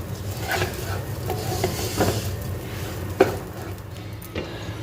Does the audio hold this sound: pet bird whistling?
no